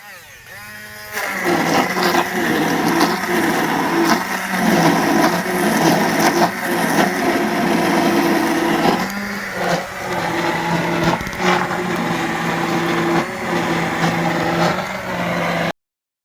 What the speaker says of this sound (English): So now we've got the blender plugged in as well.